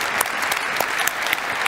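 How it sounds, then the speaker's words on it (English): Dense, steady applause from a large conference audience at the EULAR 2019 opening ceremony, continuous clapping filling a big hall with no break. "Give them a big round of applause,"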